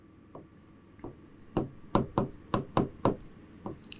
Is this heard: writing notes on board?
yes